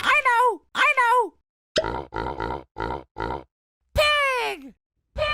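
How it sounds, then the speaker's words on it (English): Two squealy cartoon calls give way to a run of five short rhythmic pig grunts at close range, followed by another squealing call and a final brief grunt, with no talk. "Pig!"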